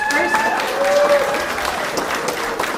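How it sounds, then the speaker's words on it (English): An audience claps steadily at an art show award, a dense patter of applause with voices and cheers mixed in throughout. "We can applaud this."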